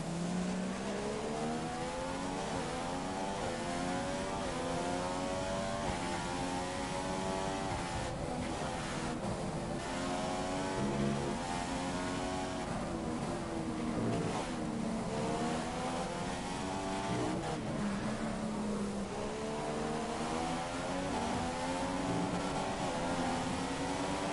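Formula 1 race car engine from the F1 2015 video game, a loud continuous high-pitched whine with rising and falling pitch sweeps as gears shift, steady throughout with no talk.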